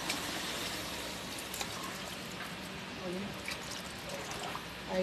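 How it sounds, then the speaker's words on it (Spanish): Water pours into a pot with a continuous splashing rush while rice with chicken and beans is being cooked, fairly steady and close, with a speaking voice underneath. "Le voy a añadir"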